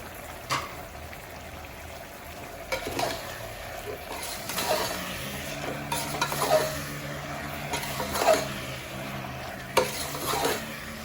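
A salted prawn biryani mixture of Malvani style is stirred in a pot at home, with repeated spoon scrapes and soft sizzling in an irregular rhythm, close and fairly quiet.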